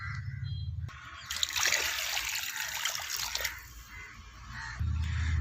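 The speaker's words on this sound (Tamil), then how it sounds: "இப்போ வந்து தண்ணி கொடுத்துடலாம்." Water poured onto soil around a rose plant, a few seconds of splashing, trickling flow between quieter stretches with low background hum, fairly close.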